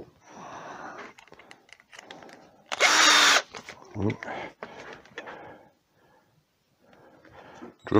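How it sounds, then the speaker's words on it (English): A power drill whirs in one short, loud burst of about half a second, drilling a guide hole in a wood-turning bowl blank, with someone talking before and after it. "Drill a guide hole."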